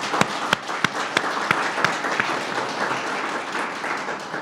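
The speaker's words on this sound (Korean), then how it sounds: "또 한 번 감사의 인사를 드리는 박수를 보내도록 하겠습니다" A church congregation claps in thanks during Sunday worship. Several sharp, evenly spaced claps stand out near the start over a dense, continuous spread of applause that carries on to the end.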